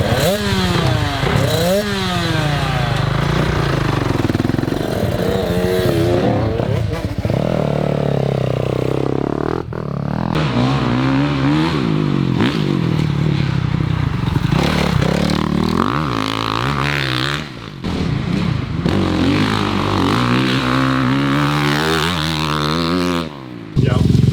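Dirt bikes riding a deep sand motocross track in Florida, engines revving and surging up and down, loud and close throughout, with a voice talking over the engine noise.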